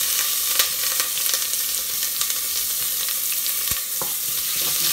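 Herring fries in hot oil in a pot while a Haitian bread soup is being cooked, giving a steady, bright sizzle with a few faint clicks of stirring.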